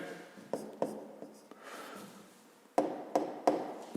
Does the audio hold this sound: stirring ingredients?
no